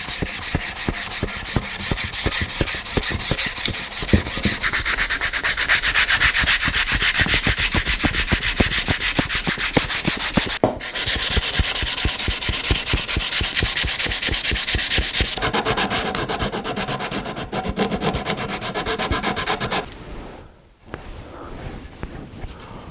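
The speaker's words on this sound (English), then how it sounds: "And then I will just begin sanding." Sandpaper of 120 grit rubs over the wooden body of a neck-through guitar in steady back-and-forth strokes, loud and close, continuing for a long stretch with brief pauses.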